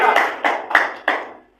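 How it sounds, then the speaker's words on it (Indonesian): A church congregation claps hands in praise, four distinct bursts of clapping in quick succession, fairly close and loud, fading out at the end with no talk over it. "Tepuk tangan bagi Tuhan."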